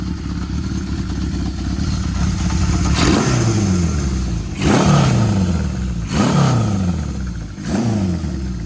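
An old Honda CB750 motorcycle is ridden, its engine droning steadily with four distinct revving swells as the rider accelerates and shifts, each rise dropping back to a lower throb, loud and close.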